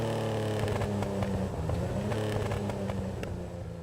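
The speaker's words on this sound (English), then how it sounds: "Listen to this sweet engine note." An Aston Martin sports car engine in GTA Online hums and revs with a smooth, rising and falling tone, steady and fairly close, with no voices.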